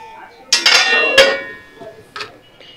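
A metal lid set onto a cooking pot of rice and lentils, giving a sharp clanging clatter and a short ringing scrape, then a softer clink a moment later.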